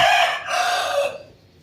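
A farm rooster crows once, loud and close, in a single drawn-out call that fades at the end, with no other sound around it.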